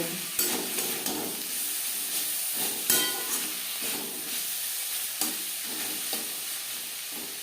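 Chicken roll vegetable filling with tomato and green chilli being stirred and fried, a soft continuous sizzle broken by repeated scraping clinks of a utensil against the pan, with no talking.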